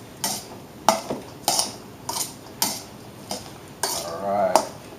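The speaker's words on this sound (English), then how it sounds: "Go ahead and stir this up." A spoon scrapes and clinks around a bowl of white bean tuna salad in seven evenly spaced strokes, each a bright close scrape with a knock against the bowl's side, with a faint wetter churn near the end.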